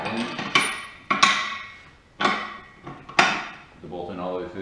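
Sharp metallic clanks from handling a bolt on a JD2 Model 32 tubing bender, four distinct ringing knocks spaced about a second apart, close and fairly loud, with brief talk near the end.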